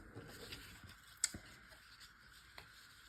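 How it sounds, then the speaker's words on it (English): Scissors trimming a paper branding strip, a few quiet close snips and crisp paper rustles spaced apart in a quiet room. "I do need to trim off my branding strip here."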